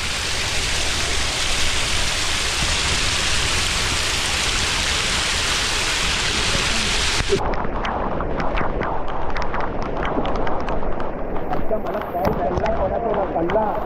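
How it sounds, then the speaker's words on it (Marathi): Heavy monsoon rain pours during a trek up Irshalgad Fort beside a newly formed waterfall, a loud continuous roar filling the first half, then softer splashing with voices talking. "पाऊस एवढा वाढलाय ना तिथे काहीच नव्हतं ते पूर्ण धबधबा तयार झाला"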